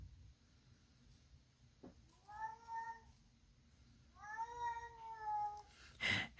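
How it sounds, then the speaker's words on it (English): A pet cat meows twice nearby, two drawn-out chatty calls a couple of seconds apart in a quiet room, followed by a brief clatter. "Can you hear my cat?"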